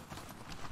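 A brief burst of close horse hoofbeats from The Last of Us Part II, a few quick clip-clops in a short run.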